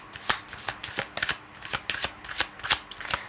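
Tarot cards being shuffled by hand, a quick run of crisp riffling flutters repeating in short bursts, close and clear with no talking.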